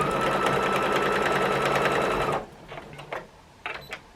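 A sewing machine stitches a quilt border with a fast, steady mechanical whirr for about two seconds, then stops, leaving faint handling clicks and rustles.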